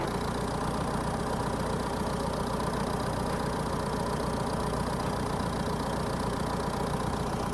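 A car engine idles steadily and loudly nearby to warm up its automatic transmission fluid, a constant rumbling drone throughout.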